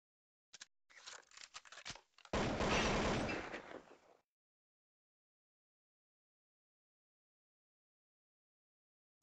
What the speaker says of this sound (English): Twisted has been seen possessing firearms in its hand. It is now shooting windows and people.